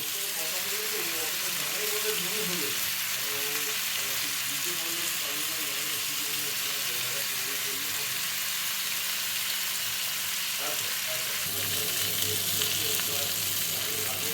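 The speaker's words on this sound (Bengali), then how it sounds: "এটা আমি এখন রোস্ট করতে দিলাম। বাটার, নিচেও বাটার দিয়েছি" Tandoori chicken brushed with butter above and below roasts with a steady, close sizzle and crackle throughout. A hum sits under it, and faint voices come and go in the background.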